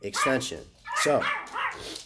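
A dog barks several times in short bursts, fairly close, mixed in with a man's speech about market charts.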